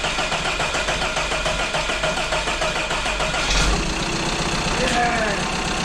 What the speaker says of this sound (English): So job's about to start the car now, just to check that everything's running.